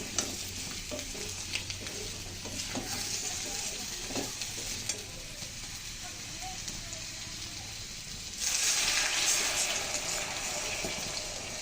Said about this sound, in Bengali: বন্ধুরা দেখুন তরকারি ফুটতে শুরু করেছে।